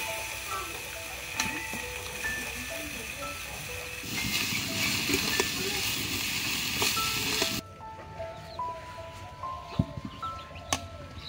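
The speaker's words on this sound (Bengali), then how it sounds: "মরিচগুলো আমি তেলে ভেজে একদম মচমচে করে নিচ্ছি।" Chillies fry in hot oil with a steady, broad sizzling hiss and occasional pops and crackles, the hiss loudest in the middle stretch and then falling to a quieter spatter.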